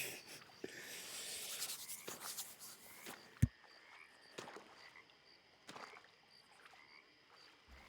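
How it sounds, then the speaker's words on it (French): Toads croaking far off in open countryside at night within a video game, a steady chorus of faint calls over ambient background with a sharp click partway through. "Entendez-vous les crapauds au loin dans la campagne?"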